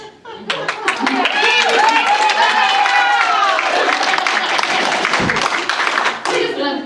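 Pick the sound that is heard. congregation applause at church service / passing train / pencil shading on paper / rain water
congregation applause at church service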